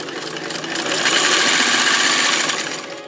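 A Kenmore model 117.552 sewing machine stitches through blue cloth, its fast whirring motor and needle chatter swelling up close, holding steady and then easing off near the end, with no talking.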